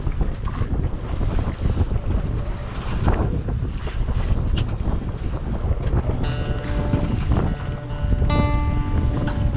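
Steady wind roars across the microphone aboard a sailboat off the west coast of Scotland near Ardrishaig, with water and hull sounds under the gusts and no talking.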